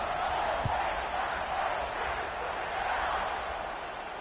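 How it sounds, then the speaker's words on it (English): A football stadium crowd buzzes after a Jets score, a broad, continuous roar of many distant voices that swells slightly and holds steady throughout without one voice standing out. "this crowd is buzzing after that last score."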